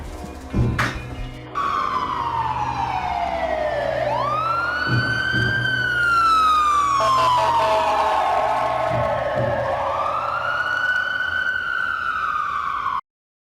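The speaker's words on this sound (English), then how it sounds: "an ambulance is gonna be here in 2 minutes" An ambulance siren wails in FNaF movie footage, loud and close, rising and falling in long sweeps over a low vehicle rumble, after a few brief thumps at the start.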